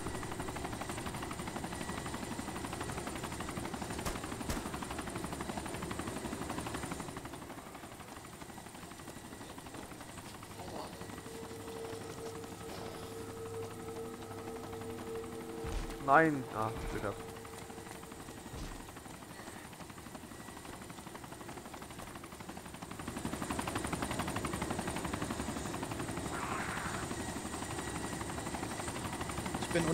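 Army helicopter in the DayZ video game, its steady rotor drone running throughout, louder at the start and end, with people talking over it and a brief sharp in-game impact in the middle.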